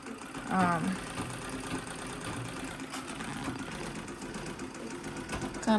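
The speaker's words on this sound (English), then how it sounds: "I don't need electricity to be using this sewing machine." A mechanical treadle sewing machine, running without electricity, sews at a steady, rapid clatter, close by, with faint rhythmic knocking and a brief voice early on.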